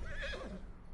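A horse whinnies in Red Dead Redemption 2, one loud close neigh lasting about a second that rises and then falls away, with no talk over it.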